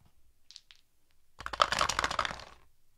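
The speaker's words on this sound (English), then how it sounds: "I'm going to go here, and I'm just going to re-roll all the dice." A handful of dice re-rolled during a Wingspan board game, a quiet faint clack or two and then a dense rattling tumble lasting about a second before settling, with no talk over it.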